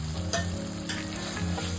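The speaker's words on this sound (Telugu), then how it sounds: "ఒకసారి ఇలా మంచిగా కలుపుకోవాలండి" A ridge gourd and moong dal curry gets stirred in a pan, a hissing simmer with a few brief scraping strokes over a steady low background hum, close and fairly quiet.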